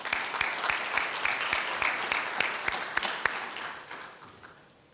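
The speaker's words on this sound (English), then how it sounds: "Let's give them a round of applause." Audience applause at an Elder-in-Residence event honoring writer Diane Glancy, a dense steady patter of many hands with a few sharper claps, fading out toward the end.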